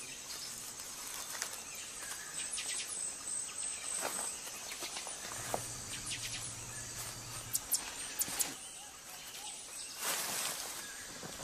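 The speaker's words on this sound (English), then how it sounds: "It's easy to nod off when serenaded by a chorus of frogs and insects." Night chorus of frogs and insects in the wild: a dense, steady layer of cricket-like trilling and chirps with occasional sharper calls, moderately faint and continuous, with no voices.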